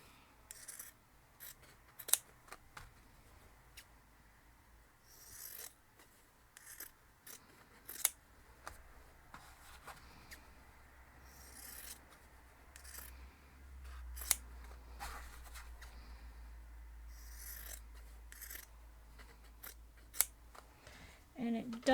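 Scissors snip repeatedly through fabric or paper at close range, a scattering of short crisp cuts and rubbing sounds over a low background hum, with no talking.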